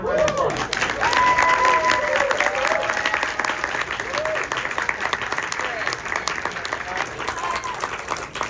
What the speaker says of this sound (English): please give Barbara Crampton another round of applause